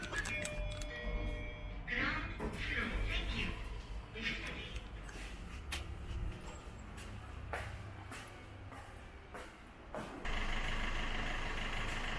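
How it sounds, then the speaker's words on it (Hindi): A car being backed up a short distance before a wash, with a steady low engine rumble, some clunks and a few sharper noises, under a voice speaking at times. "थोड़ी सी इसको बैक कर लेते हैं, बैक करके एक बार सेट कर लेता हूँ"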